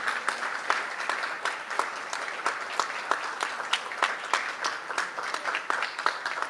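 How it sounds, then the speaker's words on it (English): Applause from the audience at a Philippine presidential event marking the signing of the SIM card law, a steady, moderately distant spread of many hands clapping with sharper individual claps standing out throughout. "A round of applause, please."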